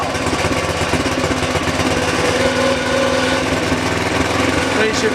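A Tecumseh tiller engine runs steadily and loudly at close range while its valve is adjusted, a continuous chugging drone with a voice faintly audible beneath it.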